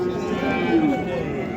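A dairy cow gives a sustained, fairly close moo at the Karshi caravan livestock bazaar, the tonal bellow swelling briefly mid-call amid background market murmur and nearby talk.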